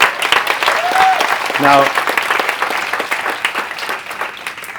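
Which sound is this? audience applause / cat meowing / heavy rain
audience applause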